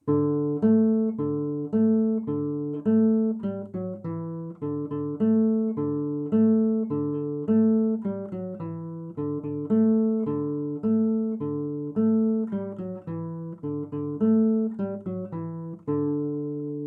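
The main riff of a song on guitar, clean and close, notes plucked in a steady rhythmic pattern that loops for the whole stretch, no voices.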